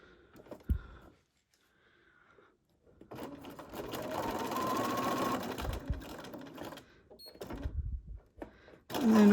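A sewing machine stitches in a steady run of several seconds, then reverses briefly to backstitch, with short quiet pauses and small handling sounds between runs; the seam is for paperclip Christmas shaker crafts.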